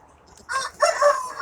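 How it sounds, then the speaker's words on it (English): A rooster crows nearby in a backyard flock, a short rising call followed by a louder drawn-out cock-a-doodle-doo, heard alone. "A rooster,"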